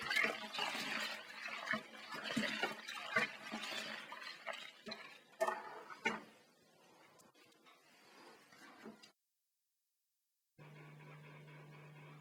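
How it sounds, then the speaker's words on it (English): Cold water gushes and splashes into a home-brewing fermenter, topping it up toward the 23-litre mark, loud at first and then gradually settling into a softer trickle before it stops. "all we need to do is top it up with cold water to the 23 litre mark"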